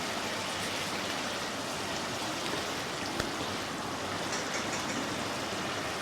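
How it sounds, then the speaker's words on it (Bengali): Puti fish curry gravy boiling in an uncovered pot, a steady dense bubbling hiss that holds evenly throughout with one faint click partway, close and fairly loud with no voices. "ঝোলটা ভালোভাবে ফুটে উঠেছে"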